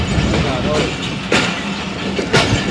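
Hazara Express train passing on a Pakistani railway in fog, a loud, close, continuous rumble with rhythmic wheel clatter and brief surges, no talk over it.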